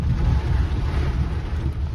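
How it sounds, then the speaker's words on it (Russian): Strong storm wind buffets the microphone outdoors, making a loud, continuous low rumbling roar with gusty fluctuations and no pauses. "Ветер сильнючий."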